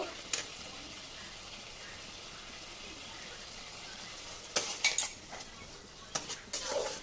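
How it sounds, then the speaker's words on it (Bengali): Egg curry with water and curd stirred in a pan, quiet at first, then clusters of metallic spoon clinks and scrapes against the pan near the end over a soft background hiss. "দিয়ে ভালো করে নেড়ে দেব।"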